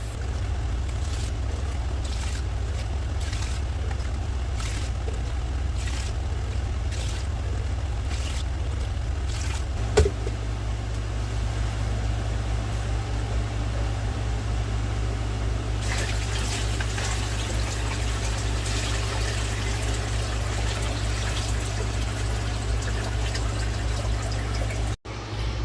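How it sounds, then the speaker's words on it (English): Water running steadily into an aquarium tank as it is filled, a constant close rushing pour with a low hum underneath, shifting slightly partway through and continuing without talk. "Now I'm going to start filling it with water."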